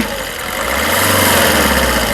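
Diesel engine of a Maruti Suzuki Swift Dzire VDI 2018 running steadily up close, a continuous low mechanical drone with slight swelling in loudness and no voices.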